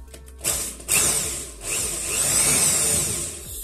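A drill bores into stainless steel lubricated with oil, giving a whirring, grinding and squealing sound with brief starts and stops before a longer steady run.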